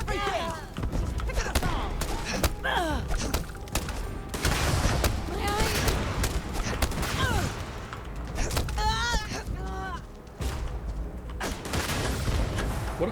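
Dense gunfire in the video game Starfield, with continuous overlapping shots, bursts and impacts running through a chaotic firefight alongside game effects and excited speech.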